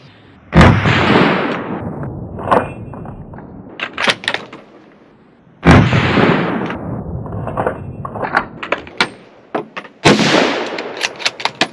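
Three loud, sharp rifle shots fired in quick succession through a rifle fitted with a UUQ 3-9X32AO scope, each crack followed by a short ringing echo, spaced a few seconds apart.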